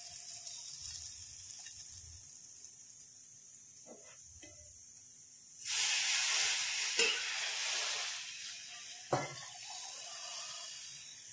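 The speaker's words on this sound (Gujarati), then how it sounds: "બધો જ વઘાર આપણે મગમાં નાખી દઈશું" Hot tempering is tipped into a pot of cooked mung beans and bursts into a sudden loud sizzle midway, after a quiet stretch with faint clinks, then settles into a softer hiss with a couple of utensil knocks.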